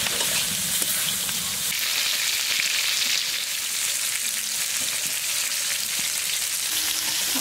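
Whole spices fry in hot oil in a pan after prawns are fried for a prawn curry. The loud, steady, close sizzle crackles without a break the whole time and has no voices over it.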